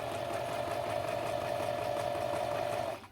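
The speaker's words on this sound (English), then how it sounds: "I'm going to start stitching, back stitch" A sewing machine back-stitches a fabric mask with a pipe cleaner in it, humming in one steady, close run that stops abruptly at the end.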